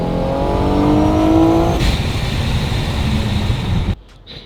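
A loud supercharged car engine revs hard with a steady high supercharger whine, roaring continuously for several seconds before cutting off abruptly.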